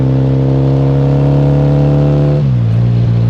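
A classic Meriden-built Triumph Bonneville motorcycle with a dynamically balanced crank, ridden past at close range: a loud, steady engine drone that holds even and then drops in pitch near the end as the revs ease off.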